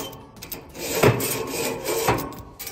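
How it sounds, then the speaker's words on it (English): Grill floss rasps across a round barbecue grate in short scraping strokes close up, with two stronger rubbing pulls about a second apart over a quiet background. "If we take this and put it around the grate, you can see that we can individually clean"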